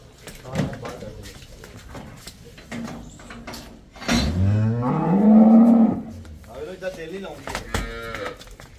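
A cow moos loudly once, a long low call with rising harmonics, amid background voices and rustling at a farm.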